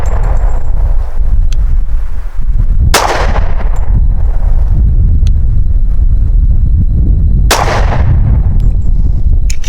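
Two loud gunshots from an American Classic Commander 1911 pistol fired outdoors at a target, about four and a half seconds apart, each with a sharp crack and rolling echo over steady wind noise.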